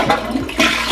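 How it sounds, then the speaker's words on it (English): A household toilet fitted with a handheld bidet sprayer flushes with a loud, close rush of water that surges, dips briefly and swells again, heard alone without speech. "Toilet will flush,"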